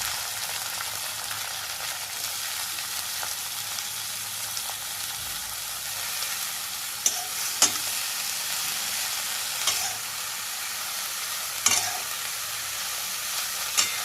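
Dill greens with garlic and chili sauté in a pan under a dense, even sizzle, broken by a few soft clicks and scrapes of stirring, with no voices.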